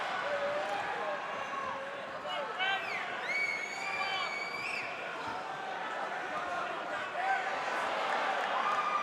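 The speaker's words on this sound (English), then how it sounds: "Big reaction from the crowd here" A boxing-match crowd roars and cheers after an uppercut lands, a dense, sustained swell of voices with whistles, and a commentator's voice runs over it.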